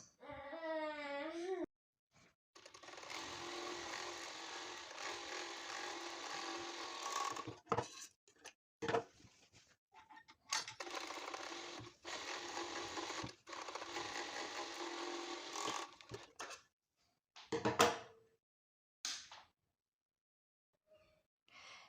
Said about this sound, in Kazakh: Енді сумкамыздың екі жағын оверлоктаймыз.